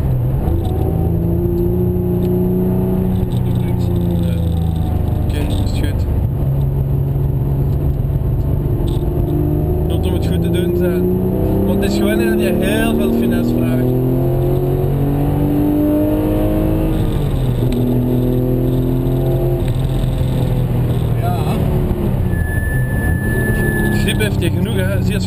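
A Porsche GT3 race car on the Ecuyers circuit in France, 2012, heard from inside: a steady engine drone whose revs climb and fall through corners, with people talking over it throughout.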